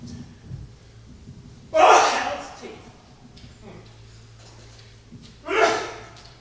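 Two sharp sneezes from a man during a technical talk, the first loud and explosive, the second a few seconds later, with quiet breathing and room noise between them.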